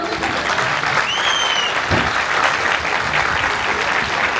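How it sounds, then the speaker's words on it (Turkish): A concert crowd in Kocaeli breaks into sustained applause, dense clapping filling the space steadily for several seconds with a faint whistle rising briefly above it. "Kocaman alkışlayalım."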